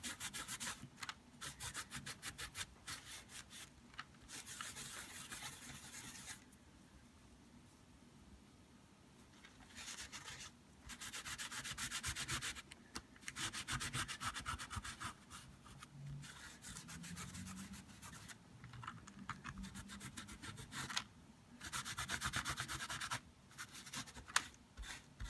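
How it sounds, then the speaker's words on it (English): Distress crayon colour being rubbed off paper, bursts of dry scratchy rubbing strokes alternating with brief quiet pauses, close and fairly soft. "on the Distress crayons, that color just rubs right away"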